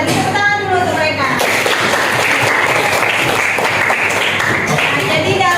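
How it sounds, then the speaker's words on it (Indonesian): Students in a classroom burst into loud, sustained applause after a brief spoken voice. The dense clapping continues to the end. "Tepuk tangan dulu untuk mereka."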